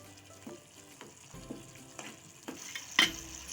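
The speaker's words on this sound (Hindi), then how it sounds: "देखिए दही में उबाल आने लगा है।" A curd and spice mixture for dhaba-style bhindi do pyaza simmers quietly in a pan, with a soft bubbling sizzle and light stirring taps at regular intervals, louder near the end.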